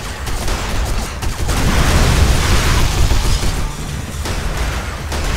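Heavy gunfire and explosions in the 2005 shooter game Area 51, a dense, loud barrage of rapid shots and booms that continues without a break.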